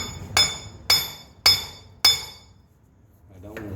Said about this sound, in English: This makes me nervous hammering on something and you can't see it.